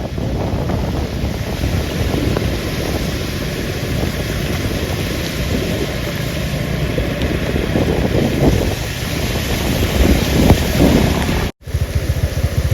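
Strong, steady rushing of a stream swollen by heavy monsoon rain in Konkan fills the clip, a loud broadband roar with wind buffeting the microphone, briefly cut out near the end.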